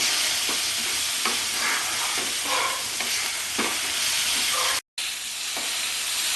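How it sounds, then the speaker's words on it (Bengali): Paneer frying in a pan gives a steady, loud sizzle with scattered stirring scrapes, briefly cutting out near the end before resuming. "পনিরটা একটু ভালো করে একটু ভেজে নেব আমি"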